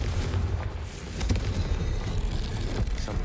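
Confringo spell explosion in the video game Hogwarts Legacy, a loud booming blast with a rumbling, crackling tail that fades over a few seconds.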